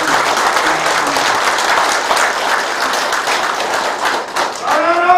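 A crowd gathered at a mayoral candidate's campaign office opening ceremony in Icheon gives loud, continuous applause, steady throughout with a brief swell of cheering near the end.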